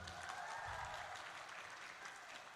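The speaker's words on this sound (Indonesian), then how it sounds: "Tepuk tangan dulu tuh semua." A crowd at a university student orientation claps steadily for a couple of seconds, a dense, even patter of applause heard at a moderate distance.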